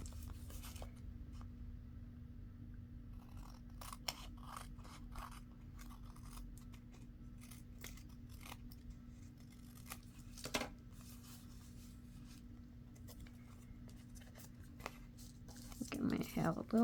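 Scissors make intermittent, quiet snips while trimming paper envelope pieces, some quick clusters of cuts, with a person talking softly throughout.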